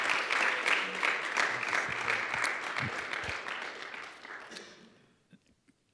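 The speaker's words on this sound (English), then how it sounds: "they should get a round of applause for their efforts this semester" A university audience applauds student fellows at a fall semester final presentation, a full round of clapping that holds steady, then thins and fades out to a few last scattered claps near the end.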